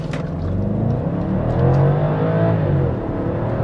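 A BMW X6 50i pulls away hard from a standing start, its engine note swelling and rising steadily into a loud, close roar that holds for a few seconds, with no talking.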